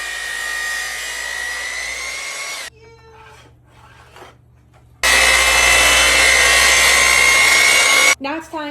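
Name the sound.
miter saw cutting wood pieces for a spice rack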